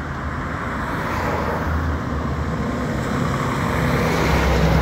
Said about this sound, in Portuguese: Passa caminhões e caminhões, ó.